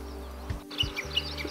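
A Japanese bush warbler calls in short, faint chirps on a riverbank in Hyōgo Prefecture, with a low steady hum underneath and no talking.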